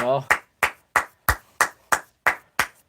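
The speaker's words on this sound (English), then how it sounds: "Give him a round of applause," A single person claps eight slow, evenly spaced claps on a livestream after a brief bit of voice at the start, with each clap sharp and close.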